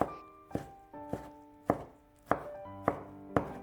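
A knife chops a tomato into small dice on a board in seven distinct, evenly spaced knocks, each ringing briefly, close and clear with no voices.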